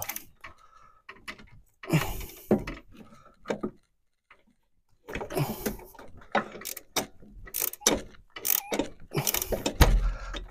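Torx socket on a 30 breaker bar and a 16 mm open-end wrench working a seized bolt on a Peugeot 206 control arm and stabilizer link, giving irregular metallic clicks, ratcheting and clanks in short bursts with pauses.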